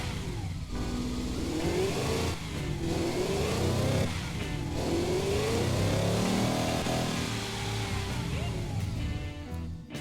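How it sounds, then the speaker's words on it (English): A V16 engine in the car-building game Automation revving repeatedly, rising and falling sweeps of loud, close engine tone with brief dips between revs, sustained for about ten seconds with no talk. "maybe let's rev the engine a bit to see how this V16 actually sounds"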